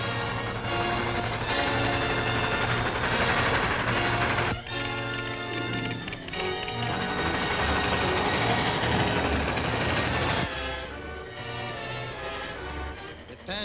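An express train rushes through a railway junction in an old 1939 film serial, a steady loud rumble of wheels and engine with clanking rail noise that continues throughout, with background music mixed in.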